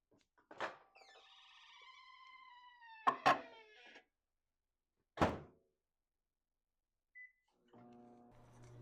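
A microwave door thuds shut on a bowl of potatoes, with sharp knocks and beeps from the keypad, followed by the oven starting to hum.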